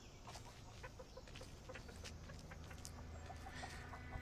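A chicken clucks softly in the Texas Chain Saw Massacre video game, with a series of short, faint clucks over a low ambient rumble.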